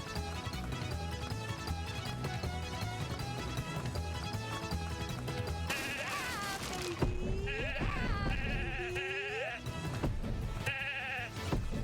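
Sheep bleat in the video game The Good Life over busy background music, several wavering cries arriving in the second half at moderate loudness, with a voice talking alongside.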